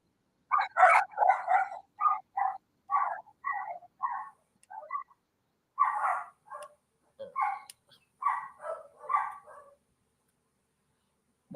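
Several dogs bark in irregular bursts, sharp repeated yips and barks at moderate distance with short pauses between volleys, no talking.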